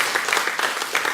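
Brief burst of audience clapping at a St Martin's school Speech Day for Year 8 pupils, a short dense patter of many hands.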